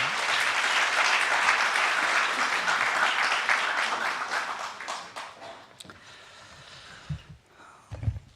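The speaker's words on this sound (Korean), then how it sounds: "이제 우리 박수로, 큰 박수로 목사님 모셨습니다." A congregation at a Korean-language Sunday worship service gives loud, sustained applause to welcome the pastor. The clapping fades after about six seconds, and a few faint scattered sounds follow in the quiet.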